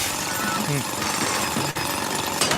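Steady grinding, rattling drill noise as a robot bores into rock on Spiralite island in a Nintendo video game, continuous and fairly loud, with brief tonal game chirps layered over it.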